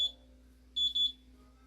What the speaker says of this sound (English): That was a timer that went off.